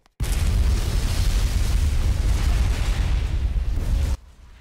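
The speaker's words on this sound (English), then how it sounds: "There's the explosion." An explosion in the crime-investigation video game Unheard: Voices Of Crime: a sudden loud, broad rumbling blast that holds for about four seconds, then cuts off sharply.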